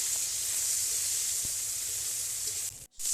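Snails fry in a little oil, giving a steady, dense hiss and sizzle heard up close that carries on evenly and then drops out briefly near the end.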